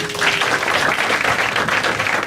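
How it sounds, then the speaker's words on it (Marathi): A crowd at a Marathi stand-up comedy show breaks into continuous, lively applause, a dense burst of clapping filling the room for a couple of seconds. "चला या टाळ्या वाजवायच्यासाठी."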